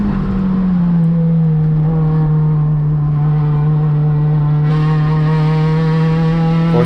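Acura RSX-S race car engine at Sonoma Raceway holds a loud, steady high-revving drone with bright stacked harmonics, pitch easing slightly early then holding level as the driver lifts up a hill; close and continuous, no voices.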